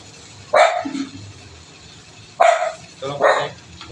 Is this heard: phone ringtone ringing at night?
no